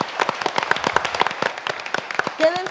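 Applause breaks out at the end of a radio programme, a burst of scattered, crisp claps from a small group, close and fairly loud, with a brief voice near the end.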